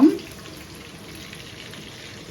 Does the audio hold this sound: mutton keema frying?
yes